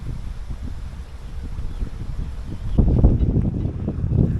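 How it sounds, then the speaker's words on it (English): Wind gusting steadily beside a lake in Suzhou, China, a low rumbling breeze buffeting the microphone that swells stronger toward the end, with no voices. "Wind is still picking up a bit, but it's a nice breeze."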